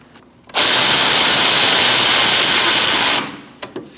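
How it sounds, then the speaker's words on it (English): A power tool runs in one continuous burst of about three seconds, tightening ball joint bolts on a 2000-2006 Mini Cooper front suspension, loud and close, then stops, followed by a couple of faint clicks. "And we're going to tighten those down."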